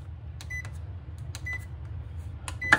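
A bread maker beeps three times at a steady pace, short clear electronic tones standing out over a low background hum, with a final brief beep at the end.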